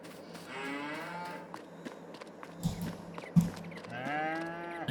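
Cows moo repeatedly in the Farming Simulator 22 video game, with long, drawn-out bellows at the start and end and a few soft thuds and hoof sounds between them, fairly close, with no talking.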